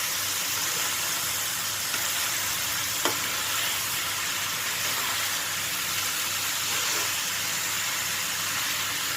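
Steady broadband sizzling of eggplant stir-frying in a small pan, with faint scraping of stirring and one brief clink, no voices.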